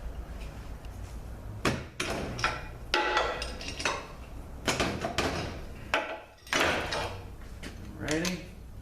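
Metal clunks and knocks come from prying the pump out of a Ford 4R75E transmission that has no third gear. Several sharp, close impacts are spread through the clip, with someone talking between them.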